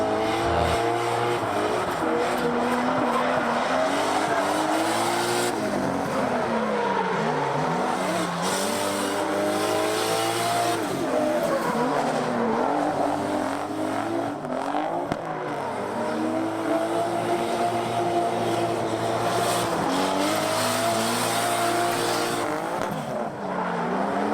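Drift cars at a Lone Star Drift event running a course with an 18-wheeler trailer on track, loud engines wailing up and down in waves with tire squeal and skidding, continuous and fairly close.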